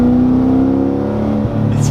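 A C6 Corvette Z06 engine with upgraded heads and cam rumbles loudly up close, its pitch holding steady with a brief dip, like an engine building revs.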